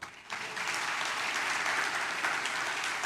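A church congregation claps together in praise during a sermon, a dense, even wash of applause that swells quickly after a brief quiet start and carries on steadily.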